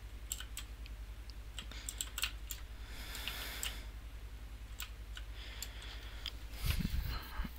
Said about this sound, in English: you can hear the clicking. Right now, all we're doing now, I'm just using a keyboard to play this game.